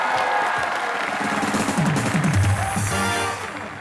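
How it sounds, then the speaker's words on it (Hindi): Studio audience applause at a live Indian comedy show taping, a dense steady wash of clapping with scattered cheers that swells and then tapers off near the end, heard without any talk over it. "जोरदार तालियां।"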